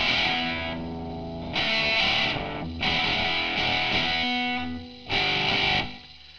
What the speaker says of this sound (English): So there's some basic chords with distortion